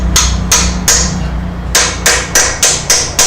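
Sharp metallic hammer blows drive a bushing tool into a car's transmission extension housing in uneven bursts, about nine hits, close and loud over a steady low hum.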